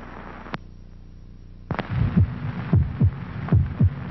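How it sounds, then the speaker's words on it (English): A human heartbeat thumps in a steady lub-dub rhythm, loud and close, after a near-silent opening broken by a single soft knock. "This is the sound of a human heart."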